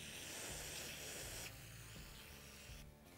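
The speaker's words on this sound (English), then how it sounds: "what I'm gonna do is spray off these bolts and nuts." Steady broadband hissing spray of cleaner onto old dirt bike fork bolts and nuts, continuous and fairly close, with a slight change in tone partway through and a brief dip near the end.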